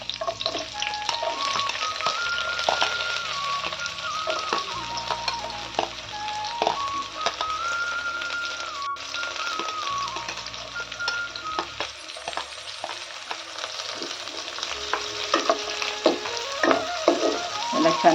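Onions and green chillies frying and being stirred in a pan for a village-style fenugreek and pigeon pea dish, a steady close sizzle with intermittent scraping stirs over soft background music.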